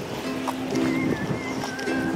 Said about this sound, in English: Some motorboat.